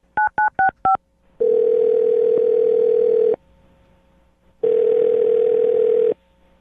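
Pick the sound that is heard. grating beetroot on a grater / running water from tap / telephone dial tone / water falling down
telephone dial tone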